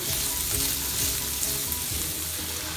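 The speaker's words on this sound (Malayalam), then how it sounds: "ഈ കൊച്ചുള്ളി നമുക്ക് ഈ ഒരു എണ്ണയിൽ തന്നെ ഒന്ന് വഴറ്റിയെടുക്കാം" Small onions sautéing in a pan of oil for a Kerala-style pork roast, giving a dense, even, continuous sizzle heard up close with no talking.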